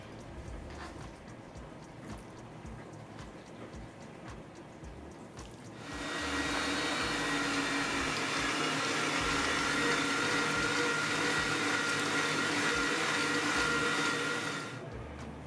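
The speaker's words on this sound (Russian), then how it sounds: "Прокручиваем через мясорубку." An electric meat grinder mincing meat starts up after about six seconds of quiet kitchen sound, giving a steady loud motor whir that holds for nearly nine seconds before cutting off.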